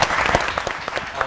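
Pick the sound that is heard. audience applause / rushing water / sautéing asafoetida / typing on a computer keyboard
audience applause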